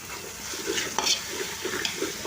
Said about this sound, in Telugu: అడుగు అంటకోకుండా ఈ విధంగా కలుపుతూ ఉండాలండి